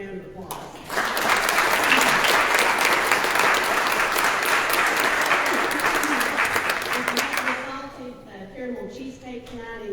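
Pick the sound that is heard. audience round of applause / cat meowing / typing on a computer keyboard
audience round of applause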